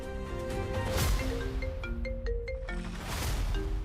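A mobile phone rings with an incoming call, playing a clear melodic ringtone of rising and falling notes at steady volume, alone with no talk over it.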